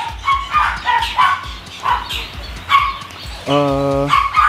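A dog barks close by in a run of short, sharp yips, then one longer, drawn-out bark near the end, with some talking in between.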